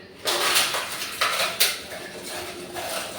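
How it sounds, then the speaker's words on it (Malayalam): Papadam crushed by hand into a chutney, several bursts of crisp crunching and crackling, close and moderately loud, with brief pauses between squeezes. "ഇനി ഇതിലേക്ക് നമുക്ക് പപ്പടം പൊടിച്ചിട്ട് കൊടുക്കാം"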